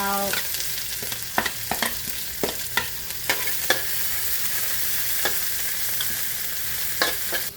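Chili, shallots and garlic fry hissing in a hot pan, a steady sizzle broken by sharp scraping and clinking stirs at irregular intervals, close and fairly quiet with no talking.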